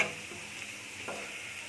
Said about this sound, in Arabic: الثومه ديالنا كتشحن مزيان